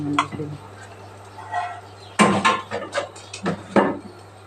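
A knife chops through raw mango on a board in a home kitchen: a run of sharp, close wooden knocks, bunched together in the second half, over a low steady hum.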